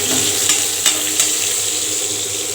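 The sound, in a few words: almonds and cloves frying in oil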